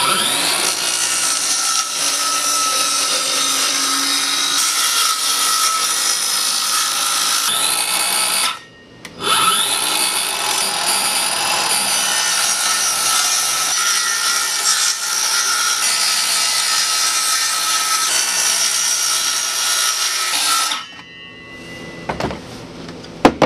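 Power tool cutting a seat part to fit on a Ski-Doo Everest snowmobile, a loud continuous whine for about twenty seconds with one short break, then stopping, no talk.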